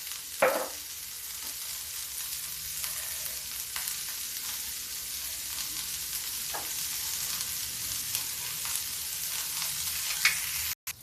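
Continuous hissing sizzle of onions frying in a pan for an aloo shimla mirch (potato and capsicum) dish, with occasional scrapes and knocks of a spoon stirring, steady and close.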